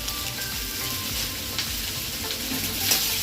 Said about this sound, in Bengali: দিয়ে এবার আমি এটা ভাজবো একটু বেশ কিছুক্ষণ।